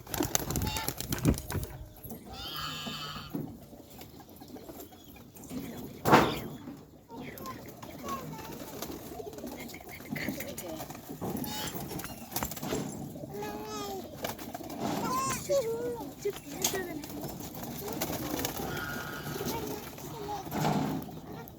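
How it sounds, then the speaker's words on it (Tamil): Racing pigeons coo intermittently in a loft, soft low calls recurring through steady background noise while someone talks over them at length. "இது ஒரு ஜாம்ப செட்டு புறா"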